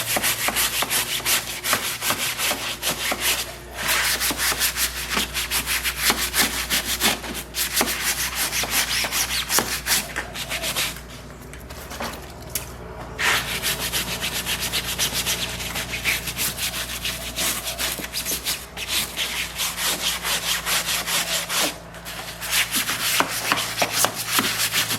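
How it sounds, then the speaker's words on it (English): A stiff scrubbing brush rubs hard over wood in steady, continuous back-and-forth strokes, close and loud, with a short pause near the middle and no talking. "I'm going to need a scrubbing brush on that."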